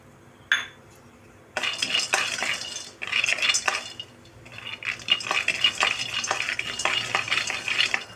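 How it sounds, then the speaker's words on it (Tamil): Peanuts roasting in a hot kadai as they are stirred: after one early clink, continuous close scraping and rattling of nuts against the metal pan comes in rhythmic bursts with brief pauses, loud and without voices. "கடாய் ஹீட் ஆயிடுச்சு. இப்போ நம்ம வேர்க்கடலை போட்டுக்கலாம்."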